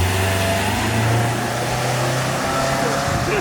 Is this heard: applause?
no